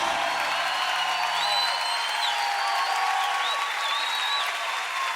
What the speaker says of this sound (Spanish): Ríndele ese aplauso más fuerte a Jesucristo el Salvador